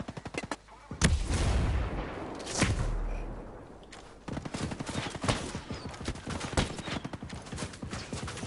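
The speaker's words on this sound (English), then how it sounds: "On uporno gađa s tim topom" Cannon shots in a video game boom out as a few heavy, rolling blasts, then give way to a fast series of sharp reports and clattering hits, all moderately loud and close.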